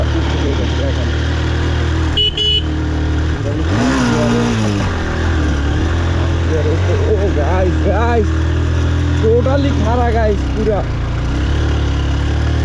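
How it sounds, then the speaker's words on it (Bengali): A vehicle engine in second gear strains as it climbs a steep, uneven hilly road, droning and revving under load. Someone talks over it throughout. "সেকেন্ড গিয়ারে আমি চালাই গেছি অবশ্য ইঞ্জিনের উপর কেমন প্রেশার দিতেছে"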